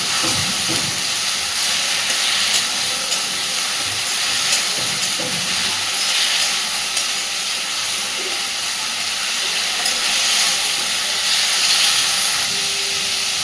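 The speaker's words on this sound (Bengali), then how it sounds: "খুব ভালোভাবে পেঁয়াজটাকে কষে নেব আগে" Ground onion paste sizzles in a pan with potatoes for potol kofta curry, a steady close hiss of frying with occasional faint stirring scrapes, no voices.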